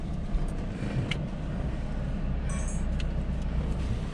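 A car stuck in beach sand is towed out, giving a steady low vehicle rumble with faint metallic clinks and creaks throughout, moderately distant and without talk.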